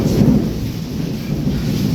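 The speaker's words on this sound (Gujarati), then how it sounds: "સતત અત્યારે લાઇટ થઈ રહી છે વીજળી થઈ રહી છે અને કડાકા ભરાકા થઈ રહ્યા છે અને વરસાદ પણ અનરાધાર આવી રહ્યો છે" Thunder rumbles low and steady through a heavy, nonstop rainstorm with constant lightning in Wankaner, a dense broadband roar of pouring rain filling the whole moment without voices.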